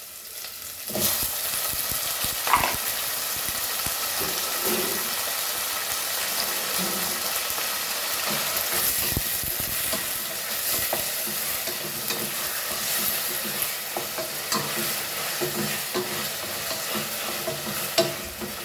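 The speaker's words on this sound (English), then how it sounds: "now we will fry this onion and tomatoes together" Onion and tomatoes frying together in about a tablespoon of oil for a Goan green beef curry, a constant close sizzle with scattered scraping and stirring knocks throughout.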